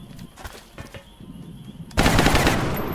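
Gunfire in the turn-based strategy game XCOM Long War: a quiet stretch with faint clicks, then a sudden loud burst of rapid automatic shots that keeps going to the end.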